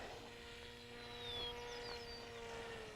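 H-King paramotor engine throttling up in flight, a faint distant droning buzz that swells slightly in the middle, steady with no talk.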